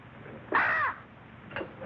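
A crow gives one loud, harsh caw close by, followed a moment later by a shorter, fainter call.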